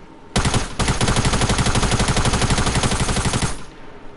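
Rapid automatic gunfire from the video game Fortnite fires in one loud, continuous burst of closely spaced shots lasting about three seconds, then stops abruptly.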